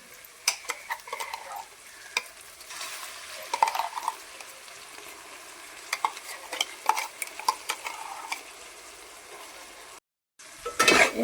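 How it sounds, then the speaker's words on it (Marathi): Ginger-garlic paste stirred into browned fried onions in a pan, with a soft steady sizzle and scraping spoon strokes close by, plus occasional clinks of utensil against the pan. "आता त्याच्यामध्ये अद्रक लसूण टाकीते वाटलेलं"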